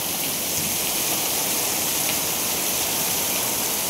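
Heavy afternoon thunderstorm rain pours down in a constant, loud rushing hiss, unbroken and near, with no talking over it.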